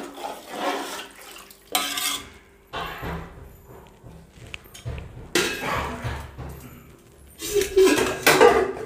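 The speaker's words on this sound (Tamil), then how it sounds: "நம்ம மூடி வச்சுக்கலாங்க." Metal cookware clanks and scrapes in bursts while cooking mushroom biryani, with a lid clinking onto a pot among the rattles and some running water sounds.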